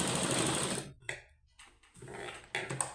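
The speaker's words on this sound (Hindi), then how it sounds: "हम सिलाई लगा लेते हैं तो ये ओवरलॉक का ही काम करती है" A sewing machine runs a stitch along the edge of an old sweater being made into socks, a fast whirring burst that stops, then short stop-start runs of stitching nearby.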